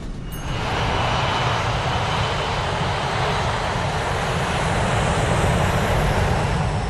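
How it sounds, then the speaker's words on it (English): Airliner engines of Aloha Airlines Flight 243 powering up for takeoff, a loud, steady roar that swells quickly in the first half second and then holds as a dense, continuous rumble. "At 1:25, Flight 243 is ready for takeoff."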